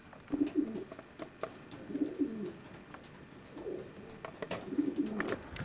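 Racing pigeons cooing inside a young bird loft, a 24-foot wooden shed, with soft repeated coos every second or so and light rustling and fluttering, close and moderately quiet with no talk.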